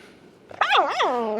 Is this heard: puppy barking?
yes